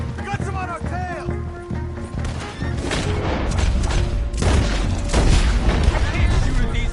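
Red Dead Redemption 2 gunfight, with repeated booming gunshots and rumbling hoofbeats over a dense, loud mix of game sound, while voices talk over the action.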